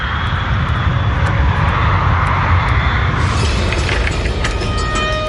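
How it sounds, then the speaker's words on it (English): The Avianca Flight 52 airliner takes off from Medellín carrying its maximum fuel load, a loud, steady, close engine roar that holds throughout, with a brighter rushing hiss building toward the end. "Avianca 52 takes off from Medellin with its maximum allowable fuel load."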